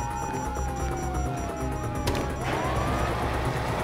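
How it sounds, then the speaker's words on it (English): Wailing police sirens in Grand Theft Auto 5 rise and fall over heavy engine and traffic noise, with a sudden crashing impact partway through. "You hear that? Sirens!"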